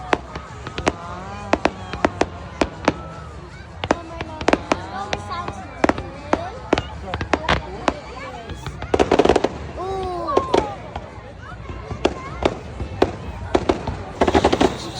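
Summer fireworks bursting in rapid, irregular volleys of sharp cracks and booms, some distant and some close, with a dense crackling cluster midway, while people talk and reassure a frightened child throughout.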